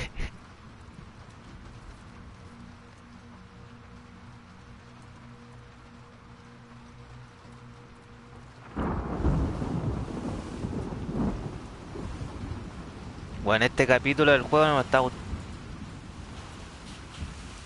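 Heavy rain and rolling thunder sweep in partway through a stormy scene in The Last of Us Part II, following a quiet stretch. Someone talks over the storm.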